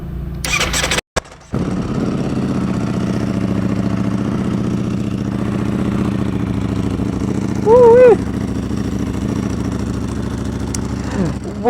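A Ducati V4 Superleggera motorcycle warms up, its engine firing after a brief cutout and then idling steadily and loudly, with a short revving rise near the end.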